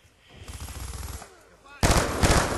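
Rapid automatic gunfire from the video game Call of Duty: Black Ops 2 crackles in a burst, then a louder, denser volley erupts partway through.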